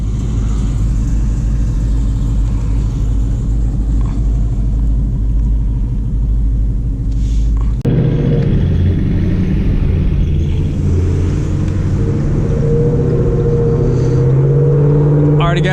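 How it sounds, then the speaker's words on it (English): A supercharged Ford Mustang GT S550 rumbles from inside the cabin on a drive, a deep steady engine drone that shifts sharply about halfway through into a rising throaty note, with some voices over it. "we're taking a ride in the boosted S550 on our way to Mexico at the moment"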